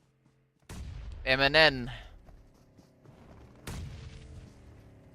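Grenade blasts in PUBG Mobile during an esports match, with two loud booms about three seconds apart, each decaying into rumble, while excited commentary talks over the action.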